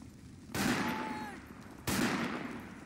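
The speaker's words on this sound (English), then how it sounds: "Just realized it's also firing the main gun." Vehicle main gun firing in the Project Reality military game: two loud, sharp blasts about 1.3 seconds apart, each with a long rumbling tail over faint background battle noise.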